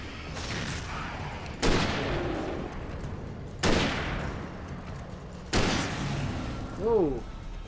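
Hunting rifle shots in the video game Alan Wake, four sharp booming reports spaced a couple of seconds apart over a low background rumble, with voices faintly under the sounds.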